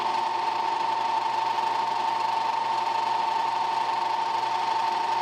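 A lathe spins while a tool chamfers the edge of a collet, giving a steady, loud whine with a constant pitch and no pauses, heard alone throughout.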